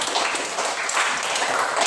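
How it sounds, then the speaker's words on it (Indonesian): Students in a classroom clap in a dense, steady burst of applause that lasts about two seconds, with no talking over it. "Oke, tepuk tangan dulu untuk Rizky ya"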